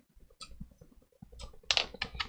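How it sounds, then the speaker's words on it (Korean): Ctrl and V keys on a computer keyboard are pressed in a few soft, close clicks and taps, quiet with brief pauses between keystrokes. "키보드로 컨트롤 키 누르시고 V 키를 눌러주시면 여기에 복제가 돼요."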